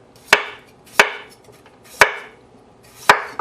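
Potatoes thin-sliced with a knife on a cutting board, four sharp, evenly spaced chops about a second apart, close and clear with no talk.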